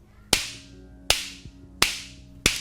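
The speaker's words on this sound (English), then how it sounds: "That sound you're hearing is actually a mini sonic boom." Four sharp, loud cracks at uneven intervals, each a sudden snapping bang with a quick ringing decay, like tiny explosions from steel balls striking together, producing mini sonic booms.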